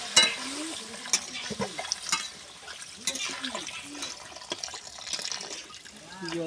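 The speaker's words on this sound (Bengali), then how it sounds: "এবারে আমি ইটে জল ঢেলে দিচ্ছি" Water is poured into a pan of rohu fish curry cooked with spinach, giving a close splashing, gurgling pour and bubbling liquid, with some faint talk in the background.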